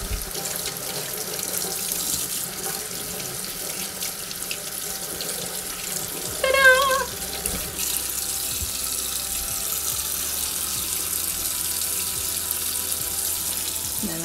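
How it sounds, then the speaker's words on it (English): Tap water runs steadily into a sink, a continuous splashing stream with a brief squeaky burst midway as vegetables are scrubbed under it. "to wash vegetables, you just get some water running, scrub it under there."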